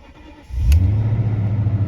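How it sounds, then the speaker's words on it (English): An old car cranks briefly in winter cold, then its engine catches and settles into a loud, steady, low rumbling idle close by. "let's see if it cranks up."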